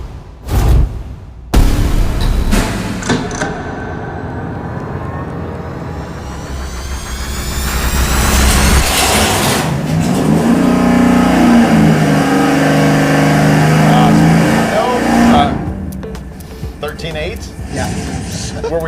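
A V8 engine fitted with a Victor Jr. single-plane intake fires up on a dyno and revs hard, with a loud sustained roar that rises in pitch, holds, then falls away.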